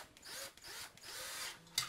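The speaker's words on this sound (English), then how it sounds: "tighten up our down rod screws." A Phillips screwdriver tightening the down rod screws on a ceiling fan: soft, close, repeated scraping turns in short strokes, ending with a small metallic click, faint and without voices.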